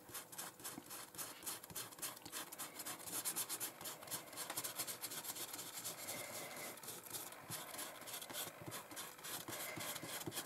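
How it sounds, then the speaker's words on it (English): A thumb rubs dried masking fluid off watercolour paper, making a continuous dry, scratchy rasp that runs steadily without pause, fairly close and quiet. "I'm rubbing the masking fluid off with the side of my thumb"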